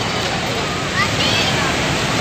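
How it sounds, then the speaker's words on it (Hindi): Dhuandhar waterfall at Bhedaghat near Jabalpur, with milky water plunging between marble rocks, makes a loud, constant rushing roar, and a voice speaks over it. "और ये प्रपात में पानी यहाँ से नीचे गिरता है, बिल्कुल दूधिया पानी संगमरमर की चट्टानों के बीच में से।"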